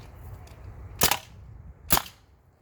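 A Tippmann TMC paintball gun fires two sharp, loud shots about a second apart, each a crisp pop that stands out close against quiet outdoor background.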